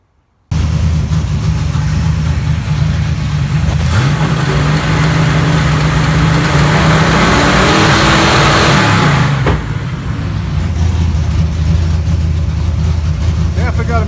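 A car engine runs ragged with a misfire, rumbling loud and steady for most of the stretch and swelling briefly as it is revved before settling back to an uneven idle.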